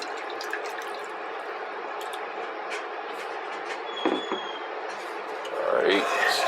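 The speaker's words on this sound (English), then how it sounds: "take some of your salted pasta water" Salted pasta water pours into a pan during cooking, a steady broadband rush of liquid with a brief splash near the end, fairly close but low in level.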